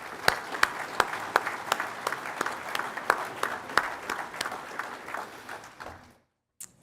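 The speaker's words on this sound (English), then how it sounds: "Let's give all of those PSEO students a big round of applause." Applause from a commencement audience at Central Lakes College for graduating PSEO students: steady clapping with sharp individual claps standing out, fading and ending abruptly near the close, with no talking.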